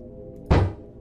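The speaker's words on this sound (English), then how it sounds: "There's like a little baby hitting the door." A single heavy thud lands on a door in a horror video game, one loud dull bang that rings briefly over a quiet background drone.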